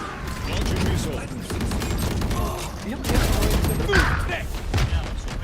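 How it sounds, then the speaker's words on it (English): A missile launches in the Valorant shooter game amid dense bursts of booming blasts and rapid gunfire-like cracks that come in waves. "This is how we end. Launching missile."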